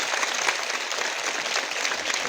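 A school crowd at a morning prayer assembly in Dang, Nepal, claps in a dense, even burst of applause that stays steady throughout without voices on top.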